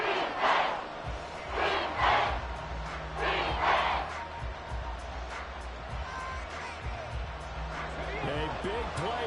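Crowd noise from an NFL football game between the Jets and the Texans fills a stadium with a constant roar. Louder swells come and go over it, and announcer voices speak over the crowd.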